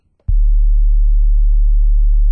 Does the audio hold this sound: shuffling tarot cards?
no